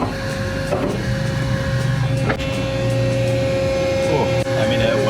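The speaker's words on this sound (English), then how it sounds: "Hydraulic press test. Takes about 10 tons just to move." A hydraulic press in a machine shop bears down on an 'indestructible' shoe, its motor giving a steady whining hum with occasional creaks and clunks, while voices murmur faintly beneath.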